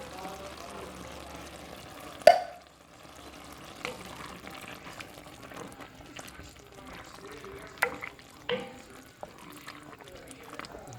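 Browned meat frying in a pan gives a soft, steady sizzle, broken by a sharp knock and a few clatters as tomato sauce goes in and gets stirred.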